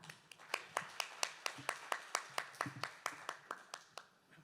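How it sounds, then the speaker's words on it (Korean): Scattered hand claps from a small audience at a Korean conference summit on V2X and electric vehicles, welcoming a Hyundai Engineering & Construction research lead to the stage; steady sharp claps in a loose rhythm, fairly close, tapering off at the end. "큰 박수 부탁드립니다"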